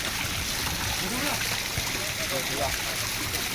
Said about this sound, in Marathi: पाणी भरायला लावलं आहे